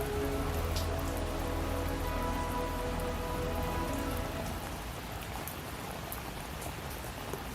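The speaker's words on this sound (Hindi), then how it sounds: "बारिश भी तेज थी" Steady, dense rain pouring down, a broad hiss of drops hitting surfaces, continuous and close with no break, easing only slightly near the end.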